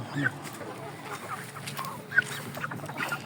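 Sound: shamo chicken clucking

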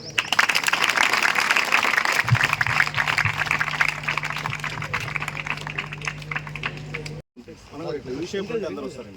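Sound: applause at a public event

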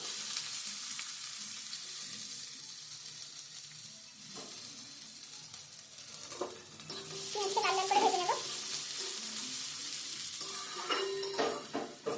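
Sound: chopped onion frying with chilli and garlic in oil

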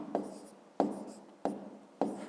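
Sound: writing with a pen

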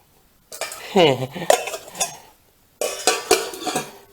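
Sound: handling a stacked three-piece cooking pot set

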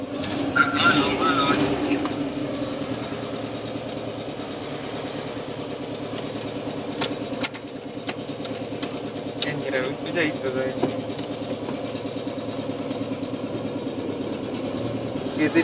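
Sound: ZAZ Zaporozhets car engine idling

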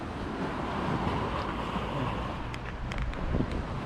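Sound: small sea waves and wind at the shore

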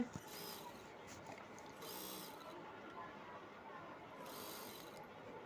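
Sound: sewing machine stitching a saree fall

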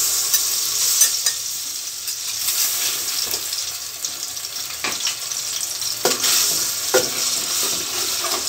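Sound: ginger and garlic paste frying in oil

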